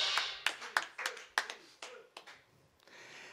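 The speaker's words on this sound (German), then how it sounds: "Großen Applaus." Sparse, scattered clapping from a small crowd at a live stream show, about a dozen sharp separate claps at an uneven pace that loosen and trail off, with faint noise after.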